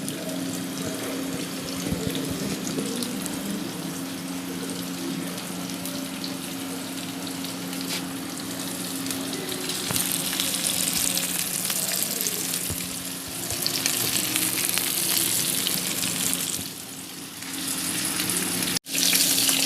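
Chicken shashlik sticks fry in a pan over a slow flame, a steady close sizzle that holds through with no talking.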